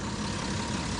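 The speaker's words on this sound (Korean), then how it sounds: "엔진 소리 들어보시면 어떻게 들리시나요?" A Kia Mohave SUV engine idling, a steady, dense low rumble with even mechanical hum, heard close and continuous without talk.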